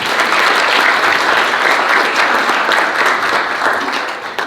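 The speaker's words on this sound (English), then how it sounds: "Let's give them a round of applause." A breakfast audience at a county legislative delegation chamber event gives loud, sustained applause, a dense wash of clapping that holds steady and tapers slightly near the end.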